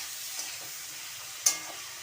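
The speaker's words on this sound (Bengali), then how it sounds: "ঢাকনা খুলে ঝিঙাগুলি নাড়াচাড়া করে দিচ্ছি।" Ridge gourd fries quietly in a pan with a soft, steady sizzle, and a utensil stirring it gives a single brief clink partway through.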